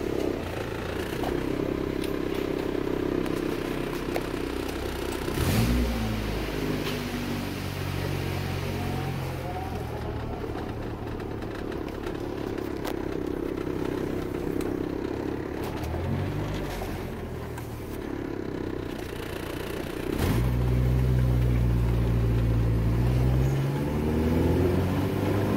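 An 1988–91 Honda Civic or CRX is out on a test drive, its engine droning steadily inside the cabin with road rumble and clatter, rising in revs through gear changes around the middle and near the end.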